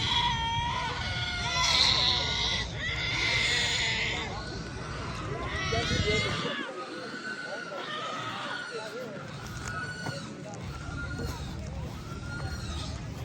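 Goats bleat repeatedly at close range in a busy, noisy goat-selling place in Africa, their wavering cries overlapping with people talking nearby.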